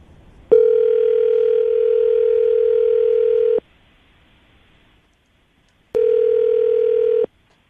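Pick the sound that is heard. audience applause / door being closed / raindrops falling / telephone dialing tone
telephone dialing tone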